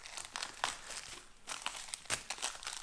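Cutting open a plastic MRE accessory pack from a French RCIR ration, a close, continuous crinkling and rustling of plastic wrap with small sharp crackles as the pouch is handled and slit.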